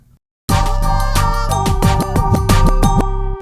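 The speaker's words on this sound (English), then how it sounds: "I'm going to bring in a more basic scratch." A DJ's rhythmic record scratches ride over a loud beat, the sharp back-and-forth swipes repeating in time, starting abruptly after a brief silence.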